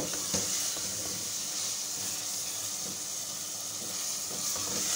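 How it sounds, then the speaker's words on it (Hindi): Yogurt fries in a pan for aloo qeema, giving a steady, even sizzle with faint crackles throughout, close and continuous with no voices. "दही हमारा अच्छे से फ्राई हो गया है"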